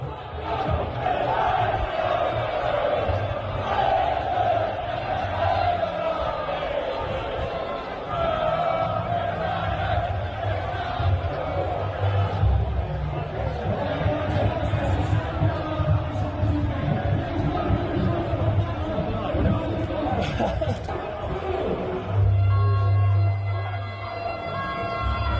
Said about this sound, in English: It's the Keir Starmer's the banker with a W chant again.